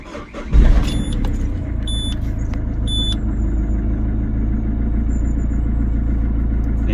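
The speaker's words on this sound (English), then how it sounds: "let's start it up and see what comes up on the dashboard now we've reset everything" A 15-year-old Peugeot car engine cranks and catches, then settles into a steady, low rumbling idle, with a few brief electronic dashboard chimes early on.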